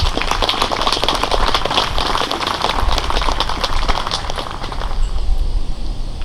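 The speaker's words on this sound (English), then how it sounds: "I would like to give them a round of applause" An audience applauds at a September 11th remembrance ceremony in West Burlington. Loud, steady, crackling applause fills the whole stretch, then thins slightly toward the end.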